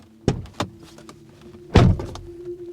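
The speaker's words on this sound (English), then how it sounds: "just very carefully try to listen to the door thud" Two quick latching clicks, then a solid, deep car door thud on a 2022 Skoda Slavia that rings briefly, followed by a faint low hum; no talking.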